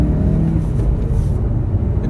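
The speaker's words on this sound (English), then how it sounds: "if we floor the car, second gear, watch the boost build up" 2018 Honda Civic VTEC Turbo accelerating hard in second gear with the boost building: a steady, close engine rumble inside the car with a faint rising tone.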